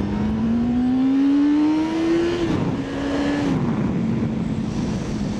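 A Kawasaki ZZR 600 motorcycle engine revs up in second gear, its pitch climbing steadily, dropping with a shift, then pulling again, loud and close with wind rush behind it.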